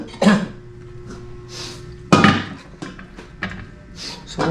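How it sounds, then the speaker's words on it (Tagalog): Harsh, heavy coughing from a person with a chest cold, two loud bursts a couple of seconds apart plus smaller coughs and throat sounds, close to the listener over a faint background hum. "Sobrang tigas talaga ng ubo ko"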